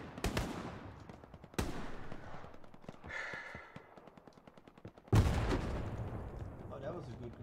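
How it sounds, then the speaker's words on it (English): Video game gunfire crackles in sharp bursts, then a loud grenade blast erupts near the end and rumbles on, with a faint voice here and there. "Oh, that was a good grenade."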